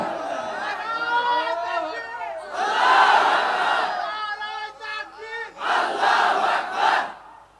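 Crowd at an outdoor Islamic sermon gathering in Bogura, Bangladesh, chanting slogans in unison, loud bursts of massed voices rising and falling in several waves, with a lead voice calling between them.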